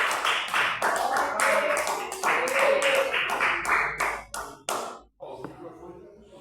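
A church congregation claps together in a steady rhythm of sharp hand claps at a worship service, the sound full and close before breaking off into scattered final claps and a pause.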